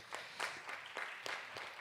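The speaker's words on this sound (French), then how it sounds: "On pourrait même les applaudir, je pense." Audience applause at a conference session on integrating AI into organizations, four or five soft swells of clapping in quick succession, faint and somewhat distant, with no talking.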